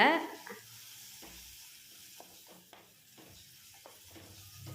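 Black nightshade berries fry in hot oil with a soft, steady sizzle, broken by a few scrapes and stirs of a spoon, close and fairly quiet, with no talking.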